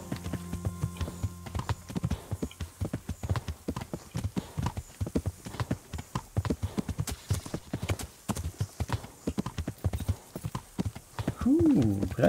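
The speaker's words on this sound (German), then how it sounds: "Jetzt dem Pferd nochmal einen Moment zum Verschnaufen geben." Horse hooves clip-clop in a steady galloping rhythm while riding in Kingdom Come: Deliverance, loud and close, with a brief whinny near the end and a voice speaking over part of it.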